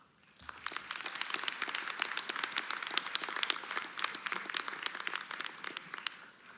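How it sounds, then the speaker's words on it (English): A graduation ceremony audience for the Simon School of Business and School of Education undergraduates breaks into dense, sustained applause. The clapping swells quickly, holds steady and loud, then tapers off near the end. "Please join me in a round of applause to thank everyone who has helped you."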